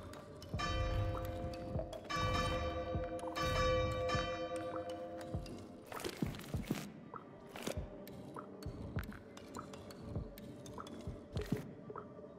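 A bell chimes in the Arranger puzzle adventure game, sustained ringing tones layered with soft game music and squishy effects, then a series of sharper, sparse clinks and taps toward the end.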